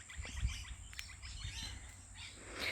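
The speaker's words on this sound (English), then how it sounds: "Can you hear the birds?" Several birds chirp and tweet in quick bursts outdoors, moderately near, over a quiet background with a faint low rumble.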